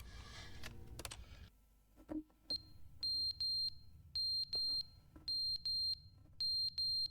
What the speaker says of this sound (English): Oh, fire alarm's dying.